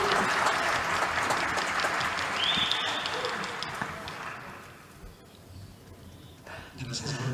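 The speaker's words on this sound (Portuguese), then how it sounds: "um forte aplauso" Audience applause at a talk on quality of experience in Latin America, loud and dense at first, then thinning and fading out, with a few scattered claps near the end.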